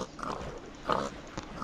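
A Minecraft pig oinks once, a short nasal grunt in the middle of faint, hissy game ambience, with softer snorts around it.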